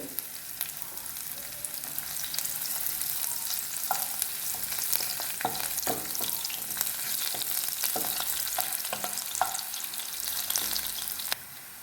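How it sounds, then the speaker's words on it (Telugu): Onions sizzling and frying in a pan as the base for a carrot and egg fry, a steady hiss with occasional stirring clicks and scrapes throughout, close and continuous. "క్యారెట్ ఫ్రైకి ముందుగా ఎల్లుల్లిపాయలు బాగా వేయించాలండి"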